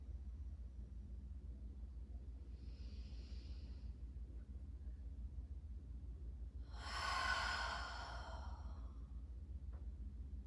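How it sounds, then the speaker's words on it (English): A long, audible exhale during a yoga session swells up breathy and fairly close around the seventh second, set against a steady low background hum, with a fainter airy breath a few seconds earlier. "It's pretty cathartic to have some nice long audible exhales."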